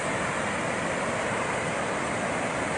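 Floodwater rushes out through five open spillways of the Magat Dam during a typhoon, a loud, unbroken roar of churning water with no pauses or talk.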